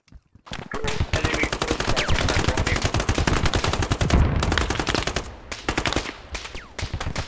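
Sustained automatic gunfire from the video game Squad, dense rapid bursts of shots, loud and close, running almost continuously with brief gaps near the end.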